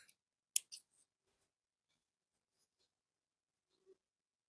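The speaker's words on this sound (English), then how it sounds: "let us cut the tail off" Scissors snip a beading thread tail while making bell-shaped beaded earrings, giving a couple of quick, close, crisp clicks near the start, followed by near silence with a few faint ticks.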